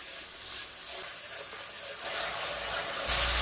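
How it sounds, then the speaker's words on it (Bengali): Ginger-garlic paste, turmeric and chili powder sauté with a little water in a pan for a Bengali pui shak, gourd and fish head curry, a steady steamy sizzling hiss that grows louder toward the end. "তারপর দেব আদা রসুন বাটা, হলুদ গুঁড়ো, লঙ্কা গুঁড়ো, আর অল্প জল দিয়ে মশলাকে ভালো করে কষে নেব।"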